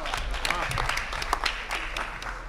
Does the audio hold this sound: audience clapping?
yes